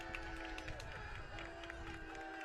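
A baseball crowd cheers on Texas High during a game against Lufkin, a steady distant wash of cheering and scattered clapping with a sustained tonal hum and a commentator talking over it.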